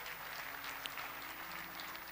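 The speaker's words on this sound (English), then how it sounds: "I believe you can do that clap very well" Audience clapping at an anniversary Sunday church service, a soft, even patter of many hands held at a fairly distant, low level throughout.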